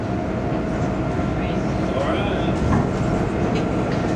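A CTA Brown Line L train at State and Lake station in Chicago rumbles steadily with a faint squeal and rattle of the cars, heard from inside, with no talk over it.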